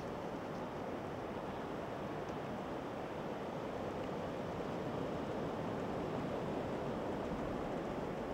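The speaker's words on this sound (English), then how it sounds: "our race through the surf" Surf waves roll in steadily during a race through the surf near Bordeaux, a dense, constant rushing wash, loud and close throughout with some wind buffeting and no voices.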